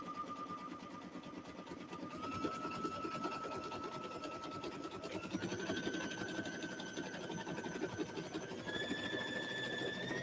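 A home embroidery machine runs its sewing cycle up close with a dense, rapid stitching rhythm and a continuous whir. Thin high-pitched tones step upward over the steady mechanical pulse.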